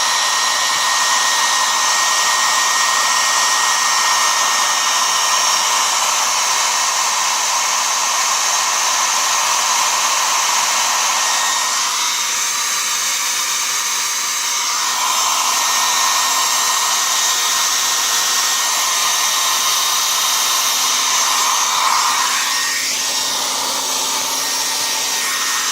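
A blower runs steadily and loudly nearby, a continuous whirring hiss warming the engine oil of a 2002 Jeep Liberty, with only slight shifts in tone over its length.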